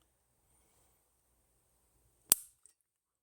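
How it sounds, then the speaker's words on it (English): A Ruger LC9S Pro pistol with a very light trigger snaps once sharply and crisply in a quiet room, followed by a faint second tick. "let's do a trigger pull"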